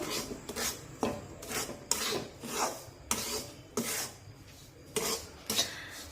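Semolina being mixed by hand with powdered sugar and cardamom powder in a bowl for rava ladoo, giving repeated scraping, rubbing strokes in an uneven rhythm, close and moderately loud, with no talking.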